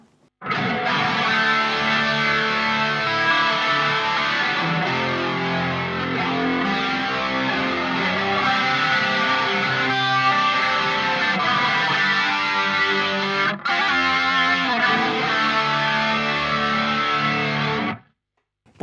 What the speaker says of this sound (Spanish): yo lo que voy a agregar ahora es el chorus con los detuners